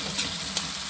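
Baby squid sautéing in a pan with a steady, close sizzle and two brief stirring scrapes, short and unaccompanied by talk.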